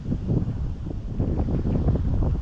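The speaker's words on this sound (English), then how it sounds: "This wind's still up, which is good" Steady wind buffeting the microphone at a fishery lake on a hot, sunny day, a continuous low rumbling roar with gusty surges throughout and no voices.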